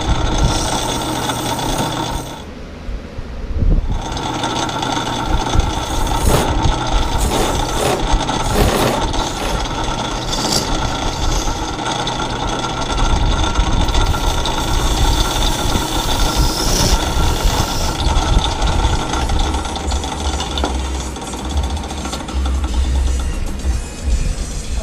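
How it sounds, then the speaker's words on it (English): A wood lathe spins a sapele bowl blank held in a Nova 3G chuck while a scraping tool turns it to a cylinder, giving a loud, continuous mechanical drone and hiss with a brief dip early on, no talking. "So I'm just going to turn this thing into a cylinder."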